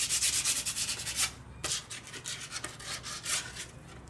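A rusty Ford truck clutch pedal part is scrubbed clean, a close, steady rasping and rubbing in rhythmic back-and-forth strokes, briefly pausing partway through before resuming.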